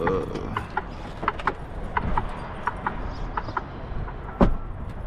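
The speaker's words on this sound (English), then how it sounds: "that turn signal pretty loud" Inside the cab of an International truck, a loud turn signal ticks in a steady, repeating rhythm of sharp clicks close by, over a low engine rumble, with no speech.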